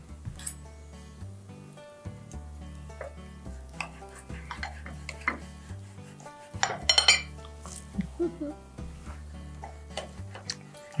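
Knife and fork scrape and clink on a plate while sweet and sour pork chops are cut near the bone, irregular close metallic taps and scrapes with a brief busier clatter midway.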